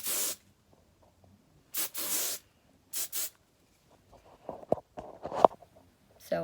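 Hair spray hissing from an aerosol can during hair styling, four short bursts of varying length separated by silence, followed by soft handling and rustling noises close by.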